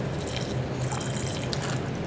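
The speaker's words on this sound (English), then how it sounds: "You add the distilled water to that one" Distilled water poured into a glass beaker in a chemistry lab, a steady splashing trickle of liquid running continuously at close range.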